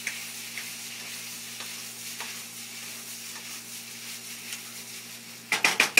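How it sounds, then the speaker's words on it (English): Drained pasta stir-fried in a hot pan gives a steady, close sizzle over a low hum. Near the end come a few sharp scraping clatters as it is tossed and stirred. "Stir fry it together."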